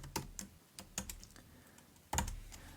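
Keystrokes on a computer keyboard while typing into a notebook cell, a few sharp clicks in a short burst, then a pause and a louder final key press, close and with no voices.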